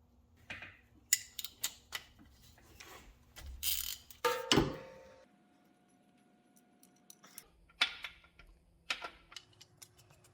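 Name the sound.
removing differential drain plug on C6 Corvette with ratchet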